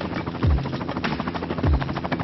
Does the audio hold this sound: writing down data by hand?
no